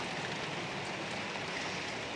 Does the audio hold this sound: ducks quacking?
no